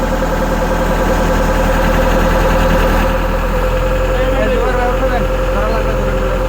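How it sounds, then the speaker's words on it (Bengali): An excavator engine running steadily nearby, a loud continuous rumbling idle with a knocking edge, as people talk over it. "ওই যে আমাদের ইঞ্জিন চলে আসছে"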